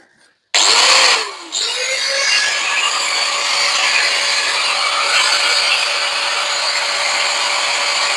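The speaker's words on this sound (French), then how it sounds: "bien fixer votre tôle avant de passer à la découpe du métal" Angle grinder cutting clamped sheet metal: a sudden loud spin-up whine that dips briefly as the disc bites, then a sustained harsh, bright grinding screech, close and continuous.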